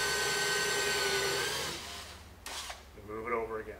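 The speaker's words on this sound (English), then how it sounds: "you can tell right there I hit it because the drill is laboring as I drive it down" A power drill labors under load as it drives a bit down into the material, with a strained whine that fades and then surges again in short bursts.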